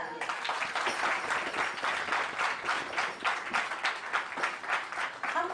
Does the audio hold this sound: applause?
yes